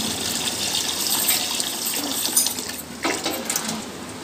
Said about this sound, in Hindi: हाँ, सारा चावल धुलाई हो रहा है।